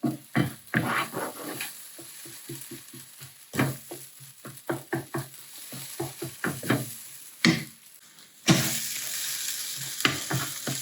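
Eggs crackle in a hot pan while a utensil scrapes and stirs in short, irregular strokes, the sizzling growing louder toward the end.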